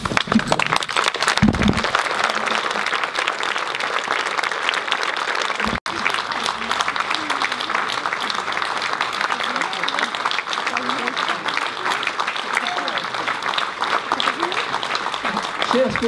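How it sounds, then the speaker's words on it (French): Spectators at a 2019 night-time historical tour performance in Preuilly-sur-Claise applaud steadily and fairly loudly for the full stretch, a dense continuous patter of many hands with a brief break near the middle. "merci de vos applaudissements"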